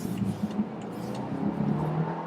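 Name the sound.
Audi car engine noise while driving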